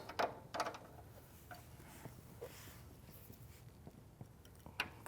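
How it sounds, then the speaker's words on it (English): A wrench tightening bolts on the sliding mechanism of an Allegro 2 Reformer, giving soft intermittent ratcheting clicks and metallic taps, close but quiet, with a couple of sharper knocks. "now I can take that curved end of my wrench and tighten these bolts all the way."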